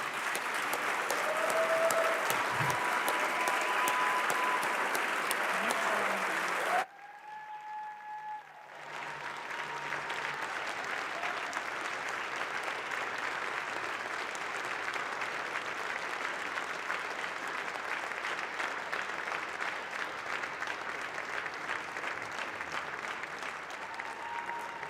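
Sustained applause fills the House chamber, loud and steady, briefly cut off then resuming as a long continuous round of clapping.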